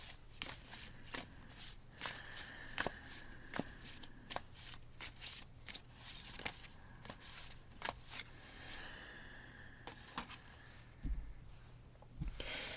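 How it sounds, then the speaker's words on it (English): A deck of oracle cards shuffled by hand, with a quick run of crisp riffling snaps and soft slides, close and quiet, a few pauses between bursts and no talking. "shuffle these cards, and see what the universe wants to contribute"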